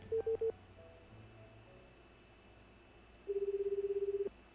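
Phone dialing tones from the game YOU and ME and HER: three short electronic beeps, a brief gap, then one long sustained tone, clear and alone with no talk.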